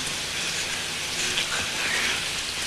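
Pouring rain hisses steadily in an alley in an audio drama, a dense, loud, unbroken wash of falling water with no voices over it.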